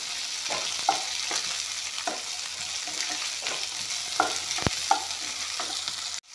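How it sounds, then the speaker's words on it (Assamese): A pan of onions and bay leaves sizzling steadily while a spatula scrapes and knocks against the metal now and then, the frying ending with a sharp cut. "এইখিনি অলপমান ভালকৈ ভাজি ল'ম"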